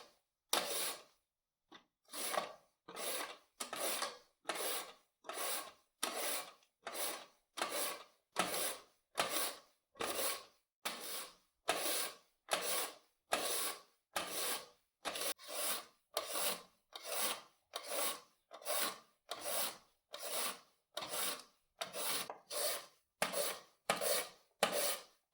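Carrots grated by hand on a box grater for steamed carrot strips, a long steady run of about two dozen rasping strokes in an even back-and-forth rhythm, close and clear with no voices.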